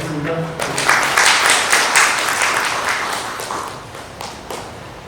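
An audience at a public-private policy meeting applauds a presenter, a short speaking voice giving way to a swelling round of clapping that peaks early, then gradually thins and fades.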